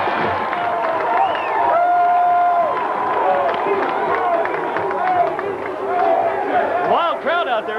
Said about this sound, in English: This crowd is going absolutely berserk